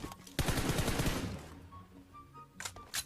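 Gunfire from the mobile battle royale game PUBG Mobile: a rapid automatic burst of shots, then a few isolated louder shots near the end, with no talking.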